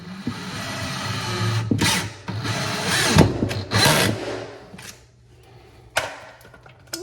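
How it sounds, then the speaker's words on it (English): A power drill drives screws into a wall stud to fix a basin for a bench and coat hook, with several whirring bursts and some knocks over a low background hum, close and moderately loud. "To attach the basin, it's going to screw into the stud."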